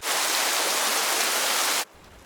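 Rain falling on a path, a loud, even hiss that holds steady for nearly two seconds and then cuts off abruptly, leaving a quiet low background.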